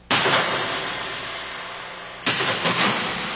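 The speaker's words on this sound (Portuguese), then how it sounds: "Metralhadoras e fuzis pipocaram de ambos os lados durante 4 dias seguidos." Gunfire sound effect of machine guns and rifles, heard as two loud sustained bursts of dense, rumbling, crackling fire, the second starting after about two seconds, with no voices.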